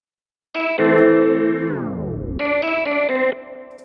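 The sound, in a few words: one-shot sample with delay and reverb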